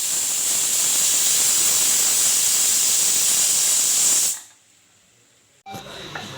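A pressure cooker holding mushroom biryani releases steam in a loud, steady hiss that runs for about four seconds, then cuts off abruptly into near silence before a short, quieter burst of hiss returns.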